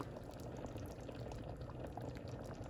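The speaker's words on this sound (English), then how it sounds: "cooking this now on the saute function" Pinto beans with cornstarch slurry simmering in an Instant Pot on the saute function, a faint, continuous bubbling and gurgling with no talk.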